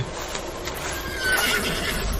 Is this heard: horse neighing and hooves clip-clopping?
yes